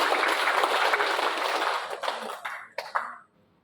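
Audience at a teachers' harvest festival event applauds together, full dense clapping that thins out into a few scattered claps and a cough before stopping.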